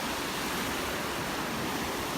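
Ocean surf breaks at Ventura State Beach in California, a steady, hissing wash of waves with a little wind noise.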